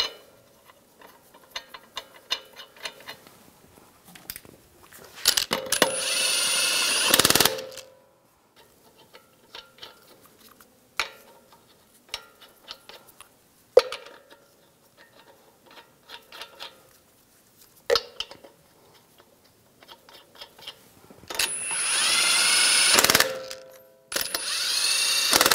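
Lug nuts being tightened on a 2011-2018 Ram 1500 wheel, rapid ratcheting clicks in bursts separated by quiet gaps, with a few longer loud buzzing runs of a power tool, close-up.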